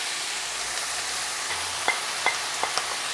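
Mushrooms drop into a very hot wok with ginger and garlic, giving a steady broadband sizzle with a few sharp clicks and pops of frying partway through, no voices over it.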